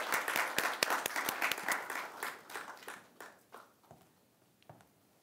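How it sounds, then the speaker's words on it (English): Audience applause at a university guest lecture, a burst of dense clapping that thins out and fades to a few scattered claps over about five seconds. "So a big round of applause for that."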